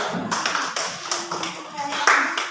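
A classroom group claps hands together in several uneven bursts of sharp taps over a couple of seconds, with a voice speaking briefly among the claps.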